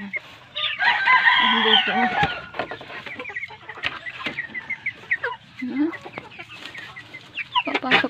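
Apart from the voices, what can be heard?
chickens clucking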